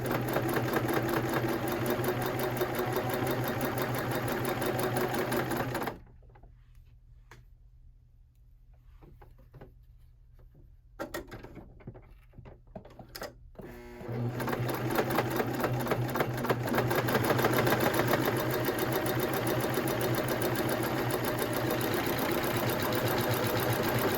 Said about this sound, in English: stitch my hem down once the glue dries with my cover stitch right here